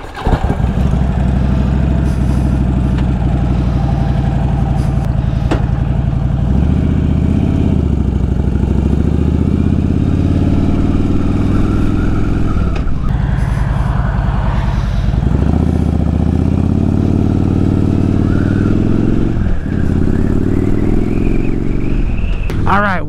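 Motorcycle ride with a steady, loud engine drone and wind rumble throughout, rising and falling as the bike shifts and accelerates, heard close up.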